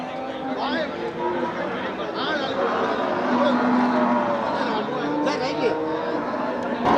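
Cattle moo at a busy cattle market in Melapalayam, low drawn-out calls rising over a constant hubbub of chatter and crowd noise.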